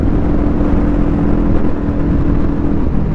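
A fully modified Kawasaki Ninja 400 motorcycle roars loudly through its aftermarket exhaust while being ridden, a dense continuous engine drone with slight rises and dips in pitch.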